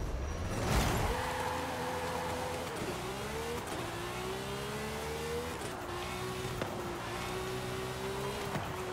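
A race car in a racing video game revs hard through repeated gear shifts, its engine note climbing and dropping in a steady cycle, continuous and fairly faint.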